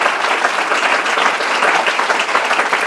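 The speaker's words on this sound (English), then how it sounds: "let's thank our panelists with a nice round of applause" A conference audience gives panelists at a design talk a loud, dense round of clapping that holds steady for about three seconds.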